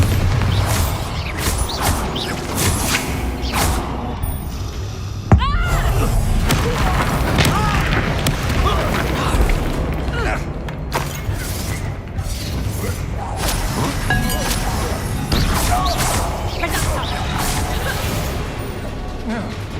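Bombarda spell explosions in the Hogwarts Legacy video game: repeated booming blasts and crashes over continuous combat effects, with a sharp loud hit early on and voices shouting throughout.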